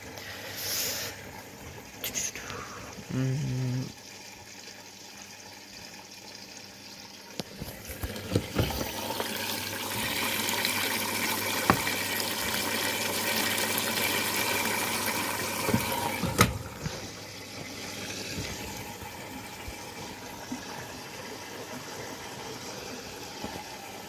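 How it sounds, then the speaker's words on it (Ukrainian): A washing machine begins its rinse cycle on a low-temperature wash of silk bedding with synthetic filling. Water rushes in steadily over a low motor hum, with a few soft clunks and no voices. "Пішло полоскання."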